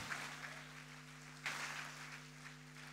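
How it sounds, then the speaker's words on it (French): A church congregation applauds, a steady wash of clapping at moderate distance over a sustained low electronic hum, with a brief louder swell midway. "Est-ce qu'on peut applaudir le Seigneur Jésus?"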